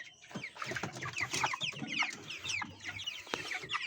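Several chickens, stunted broilers around a month old, cluck and squawk continuously in a small backyard flock, overlapping calls close by with no talking.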